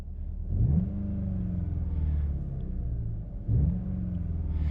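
A 2019 Volkswagen Jetta GLI in sport mode revs twice, each time rising in a deep throaty surge and then settling back to a low idle rumble. The car is recorded close up and no one speaks.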